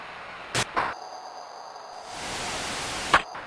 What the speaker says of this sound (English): The white noise crowd sound is headache-inducing,